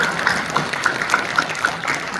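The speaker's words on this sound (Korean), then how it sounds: "우리 먼저 하나님께 영광의 박수 한번 올려드리고 시작합니다" Applause at a Korean church general assembly closing service, a dense steady patter of many hands clapping across a hall, fairly loud and continuous throughout with no break.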